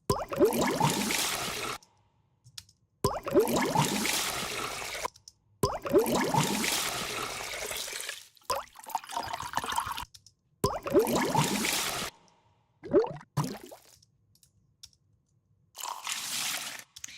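A liquid splash sample for a black liquid sound design piece, heard as several bursts of crunchy, wet, textured noise separated by silent gaps, loud and close, with no talking.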